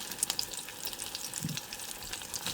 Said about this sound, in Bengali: মাছ ভাজা হয়ে গেছে, দেখেন কত সুন্দর হয়েছে ভাজা